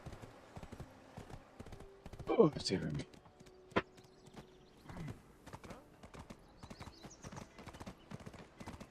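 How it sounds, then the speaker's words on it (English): Horse hooves clip-clop in a steady running rhythm in the online game Black Desert Online, with a brief whinny-like burst near the start and a short exclamation spoken over it. "You still hear the horse running."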